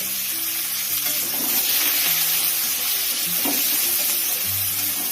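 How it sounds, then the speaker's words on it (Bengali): Chopped onions fry in hot oil seasoned with whole cumin and dried red chilli, giving a loud, steady, continuous sizzle with no talking. "লাল করে ভেজে নেবো আমি পেঁয়াজটা"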